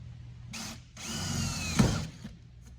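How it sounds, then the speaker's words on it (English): A power drill bores a 5/16 inch hole through a pontoon boat's metal railing, a short whirring burst, a pause, then a longer grinding run close by. "I'm going to drill 5/16 holes here"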